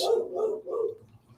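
A dog barks in a short run of three quick, muffled barks, somewhat distant and moderately loud, with a faint hum behind.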